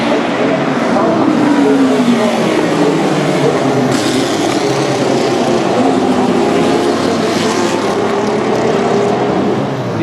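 Historic race cars, including Group C and Formel Vau racers, roaring off from the start at the Hockenheim circuit, a dense continuous engine drone heard from trackside at moderate distance, with commentary talk over it.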